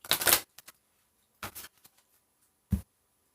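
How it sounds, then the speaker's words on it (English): A deck of tarot cards is shuffled close by in a few brief, sharp riffling bursts separated by quiet gaps. "we're going to go ahead and shuffle these now."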